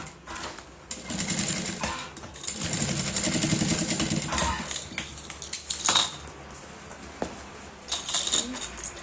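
A sewing machine stitches the lining of a fabric bag in quick rapid bursts of needle chatter, pausing between runs, with someone talking softly over it.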